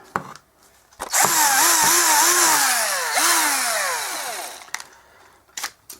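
A cordless screwdriver running on a fresh spare battery whirs loudly for about three and a half seconds, its motor pitch dipping and rising as the trigger is worked, with faint clicks around the run.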